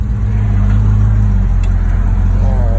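A classic muscle wagon's big-block engine runs loud and steady up close, a deep continuous rumble that holds through the whole stretch, with faint voices mixed in.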